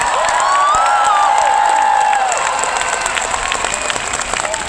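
An outdoor concert crowd at Taichung's Yuanman open-air theatre gives loud, sustained applause. Cheering, shrill whistles and shouts rise over the applause, which stays dense throughout before easing slightly at the end.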